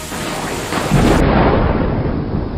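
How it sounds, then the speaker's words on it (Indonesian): Thunder rolls and swells during a rainstorm in an animated horror cartoon, a loud, deep rumble over the steady hiss of falling rain. "Wah, petir."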